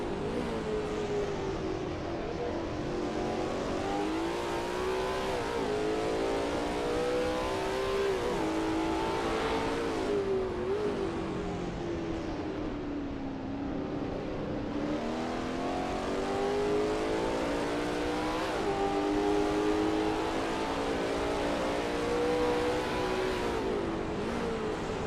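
In a racing game, a Lola T70 MkII Spyder laps Brands Hatch with a continuous engine roar that rises and falls through the gears as it brakes and accelerates around the circuit, with no voices.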